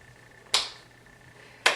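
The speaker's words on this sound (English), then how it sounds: "we're just going to be stepping from side to side like this, clapping our hands" Two sharp, isolated hand claps about a second apart during a worship song, each crisp and close with a quick decay over quiet background.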